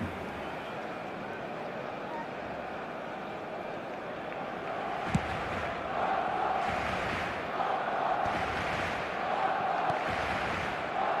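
Stadium crowd noise from an eFootball match, a steady broad roar swelling slightly in the second half with occasional whistles, like applause and cheering filling the ground.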